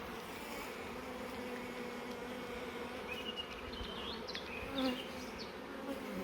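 Steady, dense buzzing of many honeybees close by at their hive, a continuous hum with occasional louder passes of individual bees.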